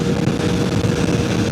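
A legendary old motorcycle engine runs steadily on a group ride, a loud, continuous throaty rumble close by with no talk over it.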